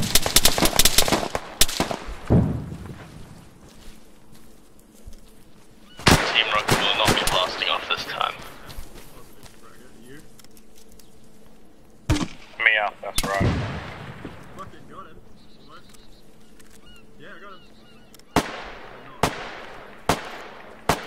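Rockets and gunfire in the video game ArmA III: loud, sharp bursts and booming blasts come in clusters, separated by quieter stretches with voices talking underneath.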